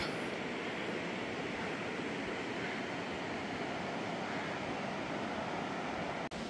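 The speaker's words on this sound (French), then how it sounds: "On se rapproche de la cascade." A waterfall and a river rush close by in a steady, loud, dense roar of water that holds without a break, no voices heard.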